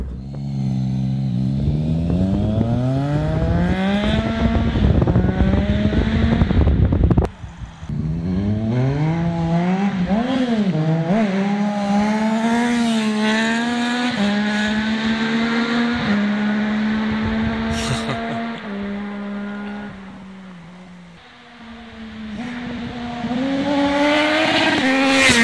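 Loud motorcycle engine with an Akrapovic exhaust, revving hard and holding rising, falling tones across the full stretch, with a brief drop near the middle and a short lull near the end before climbing again.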